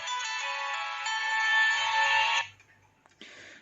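A Nokia N97 mobile phone ringtone plays a bright electronic melody for a couple of seconds, then cuts off, followed by a short faint blip.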